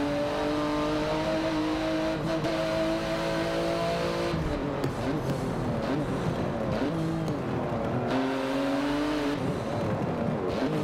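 A BMW i8 races in Forza Motorsport 7, its engine revving through rising and falling gear changes with brief tire squeal and passing cars, loud and continuous with no speech.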